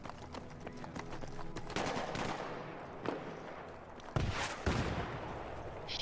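Video game gunfire rings out during a 5v5 match with players shooting from rooftops, with scattered distant shots and a few sharper, louder bursts over faint background sounds.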